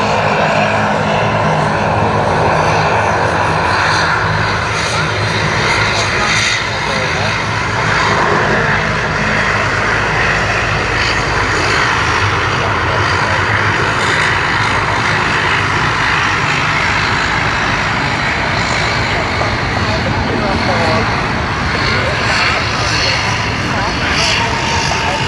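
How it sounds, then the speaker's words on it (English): A Dash 8-200 turboprop airliner at Sydney Airport makes a loud, steady engine and propeller roar that fills the whole stretch without easing. "here you have the Dash 8 200 for all of us"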